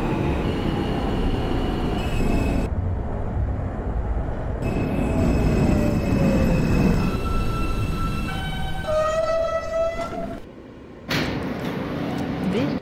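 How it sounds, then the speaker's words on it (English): A simulated R160A subway train on the R local line in OpenBVE rumbles steadily while running, with high metallic wheel squeals and rising whining tones; the sound briefly drops out, then returns. "This is a Manhattan-bound R local train."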